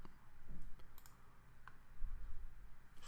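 A computer mouse clicking through software settings and maintenance menus, a few sharp, faint clicks scattered over a quiet room tone with no speech.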